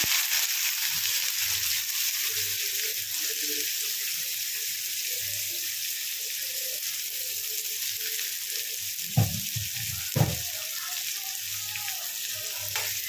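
Chopped onions with green chili and cumin seeds fry in oil in a pan, giving a continuous even hiss and crackle. Two brief knocks from a utensil or pan stand out near the end.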